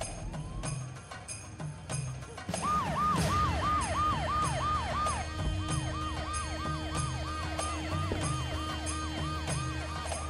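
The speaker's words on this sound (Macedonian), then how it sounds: "Амбулантното возило кој излезе се враќа заедно со оклопно војничко возило" A siren wails in rapid repeating up-and-down cycles, loud and steady, over a low traffic rumble, after a few sharp clicks at the start.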